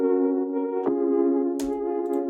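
An old-school style Connection Synth from X-Nautic plays sustained chords with a rich, steady harmonic tone, heard alone with a couple of brief clicks or transient noises partway through.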